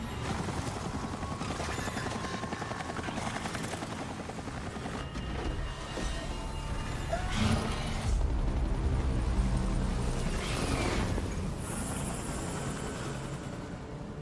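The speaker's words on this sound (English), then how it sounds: "There goes my reinforcement attack chopper." Steady rotor and engine roar of an attack helicopter in the video game Resident Evil 4, a continuous dense mechanical drone that swells slightly midway, with no talking.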